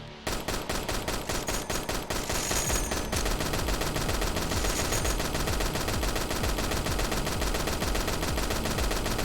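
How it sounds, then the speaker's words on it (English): Rapid-fire shots from a splitter gun, a fast-shooting rifle in a video game, crackling in a dense, continuous burst that runs loud and steady for the whole stretch with no talking. "This is just a rifle, it just shoots faster than your normal gun."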